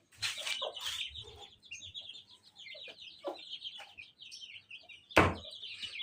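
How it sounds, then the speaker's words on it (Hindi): Chickens in a village yard, with clucking and chirping calls scattered throughout, a few sharper louder bursts near the start and one strong call near the end, no talking. "क्या चूजे भी यहाँ पर आ गए"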